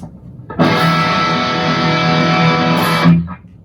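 A single heavily distorted electric guitar chord through a distortion pedal rings out for about three seconds, thick and saturated, then cuts off.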